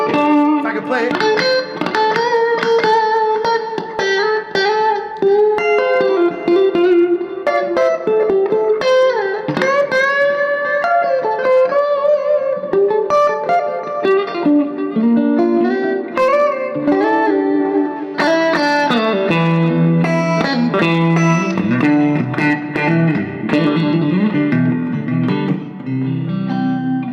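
A clean electric guitar, a Grand Master Custom Electric Rose, plays ringing chords and melodic runs continuously, bright and sustained with no distortion.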